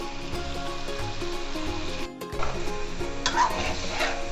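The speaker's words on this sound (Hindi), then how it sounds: "टमाटर भी अच्छे इस तरह भून चुके" Tomatoes fry for mutton karahi in a pan, a soft continuous sizzle with light stirring scrapes and a brief quiet gap midway.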